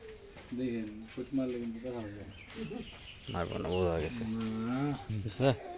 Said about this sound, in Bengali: সুন্দর একটি সার অস্ট্রেলিয়ান সার